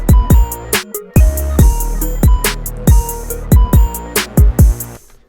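Keys melody run through the Toneflx plugin's trippy reverse effect, with punchy low hits recurring in a steady rhythm under shimmering, swelling tones. Loud and close, about five seconds long, with a brief dropout near the one-second mark.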